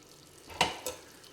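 Chicken fry being tossed in a pan with a quick scraping sizzle, then a second, softer stir a moment later, heard up close against a quiet kitchen background.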